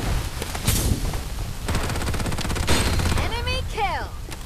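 Rapid automatic gunfire in the video game Farlight 84, loud, dense bursts running through the whole stretch alongside game effects and voice lines.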